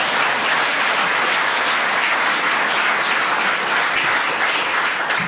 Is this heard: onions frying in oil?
no